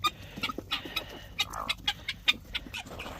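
Birds cluck and chirp in a fenced farm pen, their short calls repeating at an uneven pace, moderately close and unaccompanied by speech.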